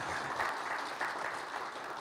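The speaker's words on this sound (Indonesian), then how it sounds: "Tepuk tangan untuk Tuhan." Steady applause from a large church congregation during a worship service, a dense wash of clapping that holds at an even level throughout without pause.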